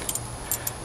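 Keys for a 1967–68 Ford F250 jingle briefly, a few light metallic clinks close by in a short burst against a quiet room.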